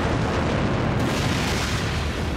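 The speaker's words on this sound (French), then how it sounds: "Finalement, c'est l'explosion." A massive refinery explosion roars as a sustained, rumbling blast that fills the space loudly for a couple of seconds without letting up.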